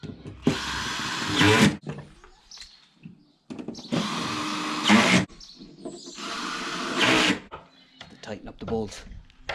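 A power drill drives bolts while building a car camper, three loud whirring bursts of about one and a half seconds each separated by quieter pauses with rustling and handling noise, close up.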